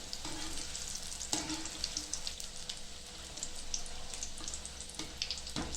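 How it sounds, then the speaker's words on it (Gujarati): Spinach and fenugreek bhajiya fry in hot oil, a steady close sizzle with scattered crackles and pops throughout. "આપણા ભજીયા હવે સરસ ફૂલીને તેલમાં તરવા લાગ્યા છે."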